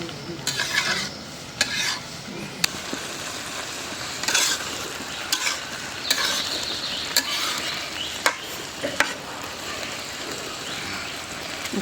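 Sizzling hiss from a pan of broken rice cooking with vegetables, with intermittent scraping and clanks of a utensil stirring, several sharp knocks spaced irregularly.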